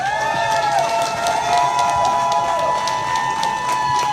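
Crowd applause and cheering at a Kansas wrestling hall of fame ceremony, a steady, dense wash of clapping from a large audience, loud and close, with no break for its full length.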